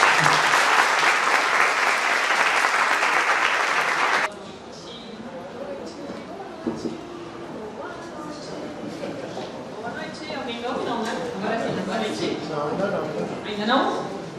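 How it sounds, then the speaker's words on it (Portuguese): Audience at a Monteiro Lobato lecture breaks into loud, dense applause for the professor that runs steadily for about four seconds, then stops abruptly; murmuring, shuffling and talk continue in the hall afterward. "a recebam uma salva de palmas"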